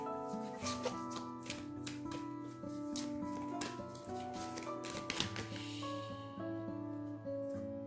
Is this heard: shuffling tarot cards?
yes